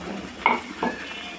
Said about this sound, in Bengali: তো আমি মশলাটাকে খুব ভালোভাবে ভেজে নেব।